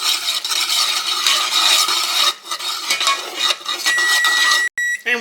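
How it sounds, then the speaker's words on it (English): A spoon stirs boiling Butterfinger fudge in a pot, a steady close scraping and rasping against the pan's sides that keeps on with little pause, cut off by a brief gap near the end. "still stirring"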